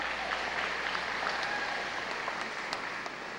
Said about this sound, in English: Yeah, you all can applaud.